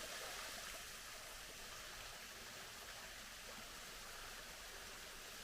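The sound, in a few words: small thin waterfall flowing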